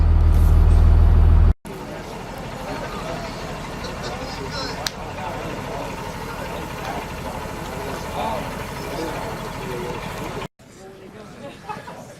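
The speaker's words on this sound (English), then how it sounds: "So here we are on a bus." Aboard a bus, a low engine idle and road rumble run underneath people talking throughout, broken by a couple of abrupt cuts, with a brief sharp click near the middle.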